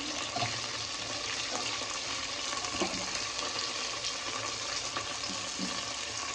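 A dal mixture frying in a pan with onion and garlic greens added, a steady loud sizzle and crackle with occasional scraping, stirring clinks, close up and without talk.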